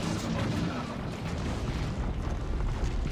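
Ork Kommando stick bombs going off in a Dawn of War 2 multiplayer battle, a dense, continuous roar of overlapping booms and blasts with no pause, loud and close, muffled chatter buried beneath.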